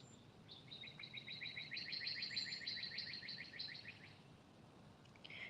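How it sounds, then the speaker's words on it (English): A bird chirping outdoors, a faint rapid trill of high tweets repeating for several seconds against a low background hiss and hum, somewhat distant, with no voices. "Do you hear that bird?"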